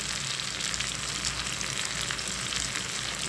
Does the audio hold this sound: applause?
no